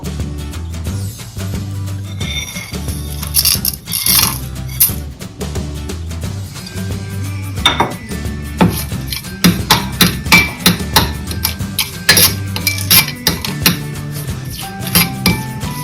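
Whole garam masala spices stirred in ghee and oil in a pot, with a metal spoon clinking and scraping loudly and repeatedly against the vessel in an irregular rhythm, with no talk.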